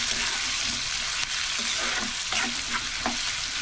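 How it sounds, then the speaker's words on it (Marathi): Chopped onion sizzles and fries steadily in a hot pan, part of a Malvani-style dish with garlic, a continuous close crackle broken by brief clicks of stirring. "कांदा आपण भाजून घेऊया कांदा पण लाल झाला"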